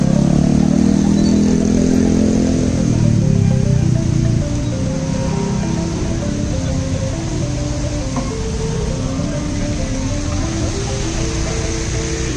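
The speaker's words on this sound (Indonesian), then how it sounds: "Banyak sekali kendaraan yang lalu lalang." Busy night-time street traffic in Ubud at ten in the evening, motorcycles and cars passing in a steady, continuous roar that swells slightly at the start and then holds at a constant level.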